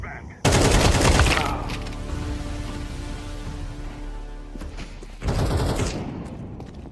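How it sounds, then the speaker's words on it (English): A flashbang grenade detonates in a video game as a loud burst, followed by a dense clatter of automatic gunfire and a second blast near the end, with a voice calling out briefly. "Flashbang."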